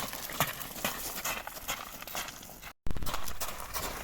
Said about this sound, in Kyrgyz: бул 2-чи номердеги өспүрүм жылкы азыр